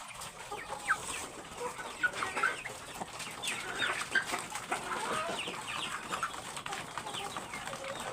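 Chickens cluck and chirp in a busy, continuous chatter while eating homemade feed, several birds close by with scattered higher calls over a steady background hum.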